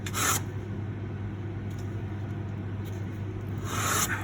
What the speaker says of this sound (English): So I carry on sanding till those file lines are gone.